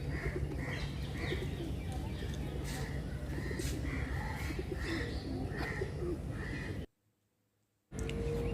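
A green dove at the Bangladesh National Zoo in Mirpur coos in a soft, repeated rhythm over steady outdoor background noise, the calls regular and fairly close before a brief drop to near silence.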